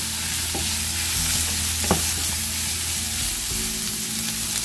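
Green chilies, ginger and garlic fry in hot oil, a steady close sizzle with occasional stirring scrapes and clicks from a utensil in the pan.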